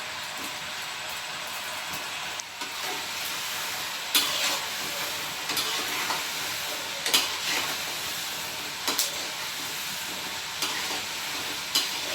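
Seedai, small rolled rice-flour dough balls, fry in hot oil with a steady bright sizzle and crackle throughout, punctuated by a few sharper pops and spatters; no one speaks.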